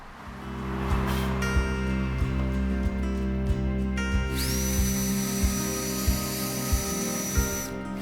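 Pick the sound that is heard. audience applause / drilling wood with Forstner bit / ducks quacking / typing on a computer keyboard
drilling wood with Forstner bit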